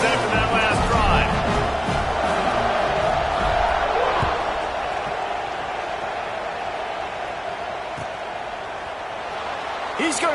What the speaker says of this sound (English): this crowd is feeling themselves after that last drive